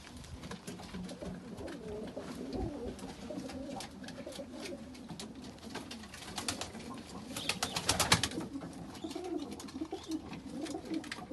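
Pigeons at a pigeon breeders' association coo in low, soft rolling calls, repeating at an unhurried pace, with faint rustling and fluttering and a brief burst of wing noise near the end.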